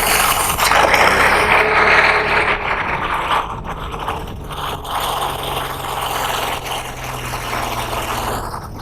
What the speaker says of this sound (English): Doc, why don't you give it a crank over and see what happens?